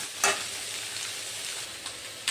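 Jackfruit pieces frying in a pan for a prawn curry, a continuous sizzle with a few sharp stirring scrapes breaking through, close and fairly loud with no talking.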